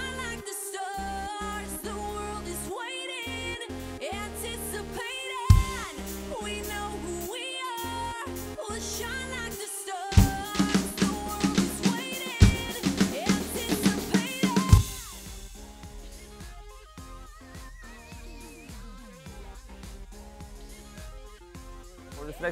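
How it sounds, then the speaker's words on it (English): A full drum kit plays along with music, steady beat building through busy cymbal crashes and fills before settling into a quieter groove. "we're just going to be doing some cymbal work and build into the turnaround"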